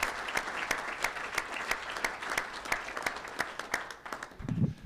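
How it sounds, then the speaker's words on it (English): An audience at a school board meeting gives a round of applause, steady, moderately distant clapping from many hands that tapers off at the end. "let's give her a round of applause"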